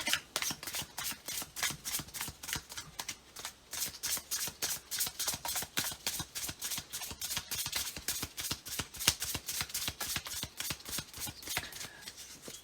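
Rapid, rhythmic riffling and slapping of tarot cards being shuffled over and over, close up, steady and continuous with no voices.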